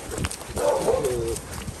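Dog barking inside an animal shelter kennel box, a short tonal bark or howl in the middle, close, over a noisy background with faint voices.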